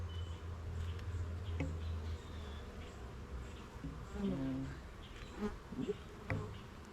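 Honeybees buzz around an open beehive during a hive inspection. The hum is faint and steady, broken by a few soft handling clicks and knocks close by.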